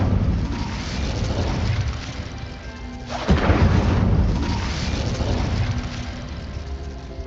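Incendio fire spell cast in Hogwarts Legacy, a loud booming burst of flame that swells sharply midway over a constant heavy rumble, with no talk.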